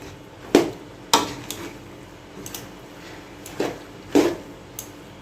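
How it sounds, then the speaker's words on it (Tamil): Egg noodles tossed with masala in a pan on a home stove, giving a few sharp scraping clinks of a spatula against the pan at irregular intervals over a soft, quiet background. "கிண்டி இந்த மசாலாலாம் இதில் அடியில் இருக்கிற மசாலாலாம் இதில் ஏறுற மாதிரி நல்லா கிண்டி விடுங்க"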